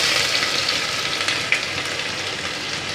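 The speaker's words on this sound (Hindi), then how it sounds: "अब हम इसमें लहसुन अदरक का पेस्ट डालेंगे" Ginger garlic paste with cumin seeds fries in a pan, a steady dense sizzle across the whole stretch with a small sharp crackle midway, no voices.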